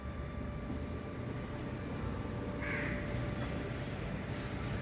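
A distant crow caws once or twice over steady outdoor background noise, faint and far off.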